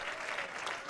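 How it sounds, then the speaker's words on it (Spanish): Church congregation at a Pentecostal service applauding, a brief, faint burst of many hands clapping heard from some distance. "Dele ese aplauso bien fuerte al Señor."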